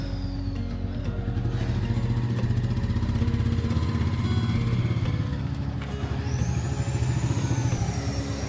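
A motorcycle on a touring ride through Odisha runs steadily, its engine close and droning with a pulsing, even rhythm for over eight seconds. There is no talk.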